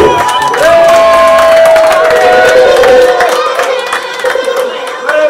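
An audience at a TV launch event cheers and claps loudly, with whoops and crowd noise above the clapping and some shouted voices rising and falling.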